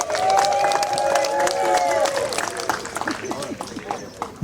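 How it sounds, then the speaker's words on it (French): Guests at a civil wedding ceremony break into applause and cheering, a dense crowd sound of clapping and voices that fades toward the end. "Applaudissez."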